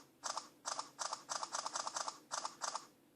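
A Samsung Galaxy S3 phone camera fires its shutter in a fast burst, about a dozen crisp, close clicks in quick uneven succession over a faint hiss, with no one talking.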